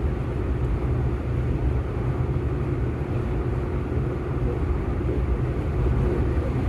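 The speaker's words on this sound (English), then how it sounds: "I'm gonna let off and hit the gas again." A 1987 Pontiac Sunbird's engine drones steadily from inside the car while driving on the road, a continuous low rumble with road noise that holds fairly even throughout, with no talking.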